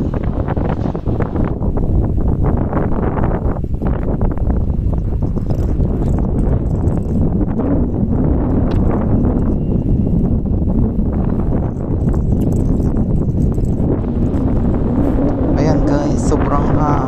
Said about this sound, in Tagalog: Ang lakas ng hangin guys. Parang bagyo signal number 5 ka.